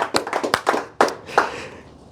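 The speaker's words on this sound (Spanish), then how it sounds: "Dele un aplauso al Señor" A few scattered hand claps from a church congregation, several sharp near claps in an uneven burst that quickly fades out.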